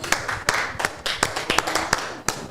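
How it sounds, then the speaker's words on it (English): A small group of people clap to welcome guests arriving at a cricket-themed show, with uneven bursts of hand claps close by over about two and a half seconds, and faint voices underneath. "So we have to clap these, Herbert."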